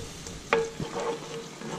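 Fish-cooking juice with a whole onion and a big spoonful of garlic simmers and sizzles in a pot, a steady hiss with a few stirring clinks and scrapes, close and moderately quiet, with no talking.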